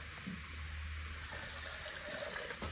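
Water runs steadily into an automatic horse drinker in a stable in Siberia, a soft continuous rushing and trickling that stays fairly quiet throughout.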